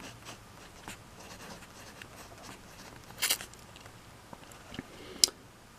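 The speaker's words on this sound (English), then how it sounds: "I'm going to do another sketch for the week here." Pencil strokes scratch across paper while a cartoon alligator is sketched, quiet and close, in short scattered scrapes with a few sharper taps and no talking.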